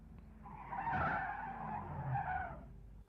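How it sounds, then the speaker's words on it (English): A car's tires squeal and skid as it brakes to a stop, a short screeching slide in an audio drama, sounding somewhat distant and muffled, without any talk. "Then we have the tire brakes, when he stops the car"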